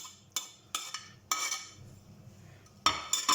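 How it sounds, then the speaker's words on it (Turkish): A utensil clinks and scrapes against a bowl while stirring spinach cake batter, sharp irregular taps with softer swishing between them, close and alone. "Ve harcımla güzelce karıştırıyorum"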